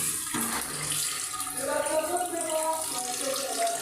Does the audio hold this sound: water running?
yes